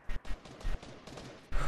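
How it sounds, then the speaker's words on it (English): Video-game gunfire in a few sharp, punchy bursts, close and loud, separated by short gaps, with a final sustained burst at the end. "they're shooting"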